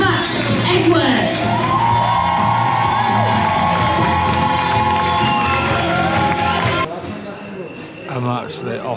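A crowd at a live show in Benidorm cheers, whoops and shouts loudly as a performer is introduced. The sustained roar of voices drops off sharply near the end, leaving scattered shouts.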